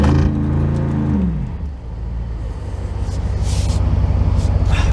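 A stuck Jeep Wrangler off-road, with its engine cutting power, revs hard in a loud, droning roar that dips midway and then surges back in a strained, rough rumble.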